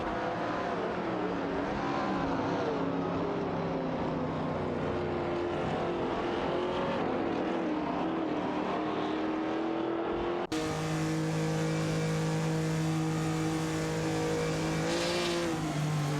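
Race cars in a racing video game accelerate and pass, with engine notes rising and falling in pitch as they rev. The sound cuts abruptly to a closer, steadier engine drone with one brief swell near the end.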